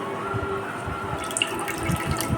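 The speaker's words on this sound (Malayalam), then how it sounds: "അരച്ചെടുത്ത കൂവയെ നല്ല വൃത്തിയുള്ള തുണിയിൽ നന്നായി അരിച്ചെടുക്കുക." Ground arrowroot paste strained through a clean cloth, with water trickling and dripping steadily at close range, a few small splashes and drips standing out near the end.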